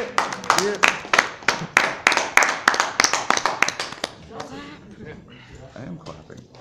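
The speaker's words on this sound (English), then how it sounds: "I am clapping. I have to clap." Hands clapping at a welding class graduation, a rapid steady run of sharp claps close by that thins out toward the end, with voices and cheering mixed in.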